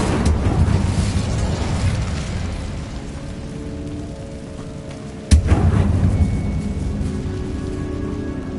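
A fire spell cast in the video game Hogwarts Legacy, heard as a roaring, rumbling whoosh of flame with a sudden sharp burst partway through, then continued crackling rush.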